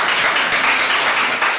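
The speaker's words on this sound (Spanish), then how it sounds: "Un aplauso a Dios, hermanos." Church congregation clapping together during a service, a dense, bright patter of many hands at close range, brief and continuous without speech.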